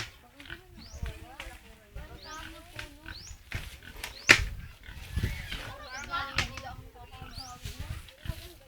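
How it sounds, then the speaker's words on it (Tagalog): A pig grunts repeatedly near a garbage heap outdoors, with short snorting calls scattered over a noisy background, mixed with faint voices, rustling and a sharp knock midway. "Meron, andun po ang baboy."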